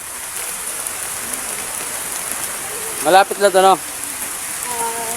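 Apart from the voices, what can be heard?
rain falling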